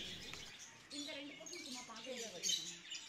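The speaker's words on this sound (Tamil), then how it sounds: "இங்கே இருக்கிறது எல்லாமே லவ் பேர்ட்ஸ் அந்த ப்ரீட் தான்" Lovebirds chirp and tweet in an exotic bird park, a busy scatter of short high calls under people talking nearby.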